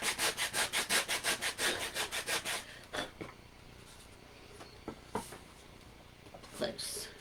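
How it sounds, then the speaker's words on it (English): Wood being sanded for a simple wall shelf, with a fast burst of rhythmic back-and-forth strokes, then scattered lighter rubs and taps, close by. "Little sanding, a little more"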